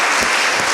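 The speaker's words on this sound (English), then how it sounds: "Please clap for Munas Creation" A brief, loud burst of dense crowd applause at a Gambian children's show, thanking an outfit designer, close and continuous throughout its short span.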